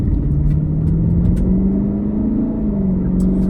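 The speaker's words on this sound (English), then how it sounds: "Car sounds great, that V8." A 2020 Ford Shelby GT500 V8 pulls along a road with a loud, steady engine drone and a gently rising and falling tone under light acceleration, heard from inside the cabin with no speech.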